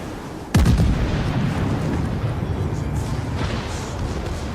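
The main gun salvo of the battleship Bayern in the World of Warships video game, one sharp, booming blast followed by a rolling, rumbling roar that keeps going for several seconds against steady battle noise.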